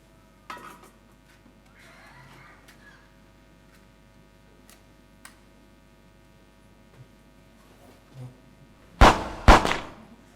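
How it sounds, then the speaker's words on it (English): Homemade firecrackers set off on a high school stage, a few scattered small pops followed by two loud sharp bangs near the end, over a steady low hum. "What do you think of these new firecrackers we made?"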